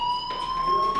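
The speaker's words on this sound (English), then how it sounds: "Hey, do you hear that fire alarm?" Electronic fire alarm in the video game Life is Strange, a steady high-pitched tone with sharp overtones sounding continuously for about a second, close and loud with no talk over it.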